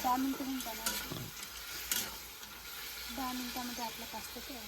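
Masala and pasta cook together in a pan with soft sizzling and scraping stir sounds, close by. Someone talks over it in short phrases.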